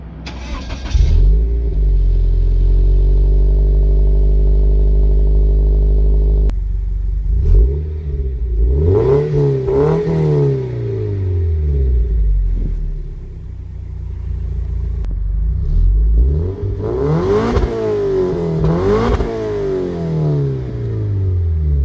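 A Toyota GT86 sports car engine with a loud aftermarket exhaust idles with a deep rumble, then revs hard in repeated rising and falling bursts, close and very loud.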